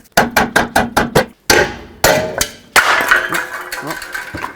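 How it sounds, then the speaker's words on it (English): A hammer tapping the rear wheel bearing off a Toyota Prius, six sharp metallic strikes in a steady rhythm, then a few heavier ringing blows with clanking metal, loud and close. "use a hammer and kind of just tap this wheel bearing, walk it off, hit it from both sides."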